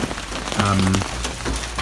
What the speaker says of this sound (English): You can hear the rain rattling on the scaffolding.